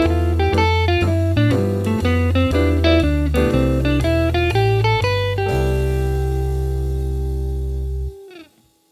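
A modal jazz improvisation runs quick stepwise scales up and down over changing chords, each run landing on a new root, then settles on one sustained chord that rings and cuts off.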